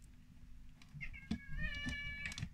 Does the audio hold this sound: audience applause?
no